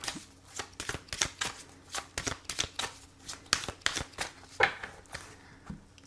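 Oracle cards shuffled for a card reading, a rapid series of crisp riffling slaps and flicks close by, about a dozen bursts in quick irregular rhythm, no talking.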